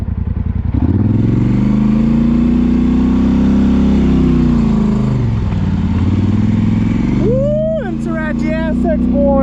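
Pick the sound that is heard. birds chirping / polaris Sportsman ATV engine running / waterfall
polaris Sportsman ATV engine running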